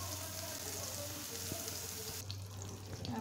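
Eggplant slices coated in spices sizzle in a pan on a stove at medium heat, a steady close frying hiss running throughout with a brief clink partway through.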